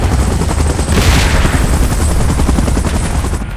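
A helicopter in the PUBG Mobile Titans: The Last Stand mode thunders close and loud with steady rotor chop, a brief swell of rushing noise passing through near the start.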